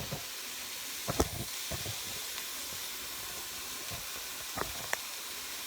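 Lentil soup simmers in a pot with a soft, continuous hiss, while a spoon clinks and scrapes now and then during stirring.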